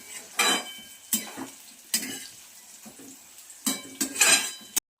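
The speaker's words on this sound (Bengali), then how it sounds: "আমি সুন্দর করে ভেজে নেব" Food fries in ghee in a pan while a utensil stirs and scrapes it, with irregular clinks and soft sizzling close by.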